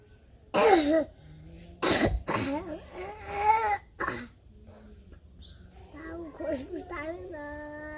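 Several harsh coughs and throat clearings come close to the listener in bursts, mixed with a voice that sounds strained or child-like, in a quiet indoor room.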